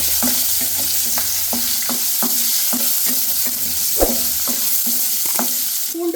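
Shallots sauté for bitter gourd thokku in a pan, giving a steady broadband sizzle with about a dozen sharp scraping stirs at a roughly even pace. The sound is close and fairly loud, and no one speaks.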